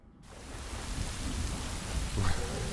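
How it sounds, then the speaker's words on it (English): A thunderstorm in the video game Rising World: steady heavy rain hiss swells in, with low rumbling thunder building beneath it, loud and enveloping. "Okay, we got a thunderstorm going on."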